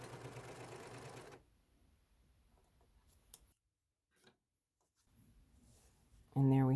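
A serger runs along the edge of doll skirt fabric in a brief, dense mechanical whir that stops after about a second, followed by quiet handling clicks and near silence before a voice starts at the end.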